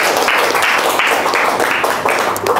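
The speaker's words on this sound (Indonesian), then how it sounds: "Tepuk tangan untuk kelompok 1." Applause for group 1 at a university lecturers' training session, a dense steady roar of many hands clapping together indoors, loud and sustained for a few seconds.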